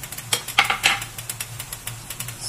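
Squid marinated in soy sauce dropped into a hot pan with softened tomatoes for adobong pusit, giving a close, soft sizzle with a few clattering stirs and scrapes of a utensil against the pan.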